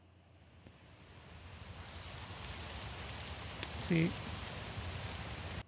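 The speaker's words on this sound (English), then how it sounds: "we can also do wind, and I'm thinking like wind blowing on a meadow or some grass here" Wind sweeps over a grassy meadow as a broadband hiss that slowly builds and holds steady, with a brief spoken word partway through.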